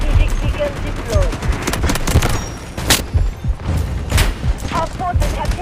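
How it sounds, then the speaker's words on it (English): An artillery barrage in the military shooter Delta Force Mobile: dense, continuous volleys of booming blasts and rattling gunfire, loud and close, overlapping without pause for several seconds. "Artillery barrage."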